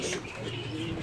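Pigeons cooing at a pet shop that also keeps tortoises, a soft, steady murmur of coos close by with no talking.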